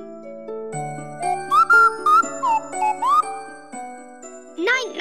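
A hanging mobile in the Clangers gives bright chiming tinkles in a melodic sequence, with sustained bell-like tones and gliding whistle-like notes over a soft background.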